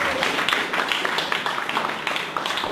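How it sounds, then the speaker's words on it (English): Audience applause at a marketing talk greeting speaker Karim Motawi, a dense, loud burst of many people clapping that holds steady without pause. "let's give a big round of applause to Karim Motawi"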